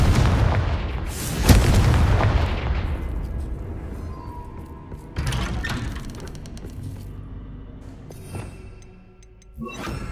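A fiery Confringo spell explosion from Hogwarts Legacy bursts loud and booming, with a deep blast that rumbles and decays, followed by a second, smaller impact midway and a sharp crack near the end.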